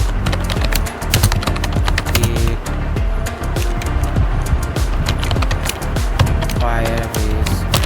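Fingers clatter rapidly on a computer keyboard, dense, continuous clicking close to the microphone, with no pauses throughout.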